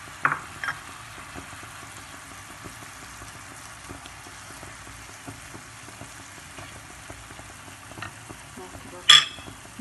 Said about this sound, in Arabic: وكنحرك حتى كنشم ريحه البصله مزيان تشحرات